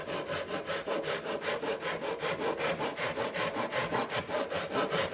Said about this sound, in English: I use a finer blade. I use something that's a straight edge. And I start my cut.